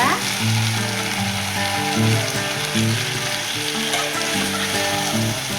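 Tomato pieces and onions fry in a pan for a bitter gourd curry, giving a steady, close sizzle that continues without a pause, with a repeating tonal hum underneath and no talk.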